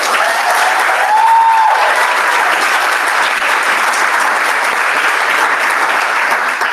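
Meeting attendees give a round of applause, a loud, even burst of clapping sustained throughout with a brief faint tone near the start and no speech.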